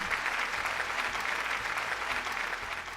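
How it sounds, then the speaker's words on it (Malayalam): A studio audience on a Malayalam TV game show applauds, giving a dense, steady wash of clapping that holds loud throughout with no talk over it. "നല്ലൊരു കയ്യടി, ബിഗ് സല്യൂട്ട്"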